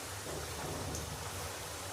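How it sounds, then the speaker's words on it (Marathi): A wheat flour snack fries in hot oil, giving a faint, even sizzle and soft bubbling that continues without a break. "बघा हलकासा असा आवाज येतोय बुडबुडचा"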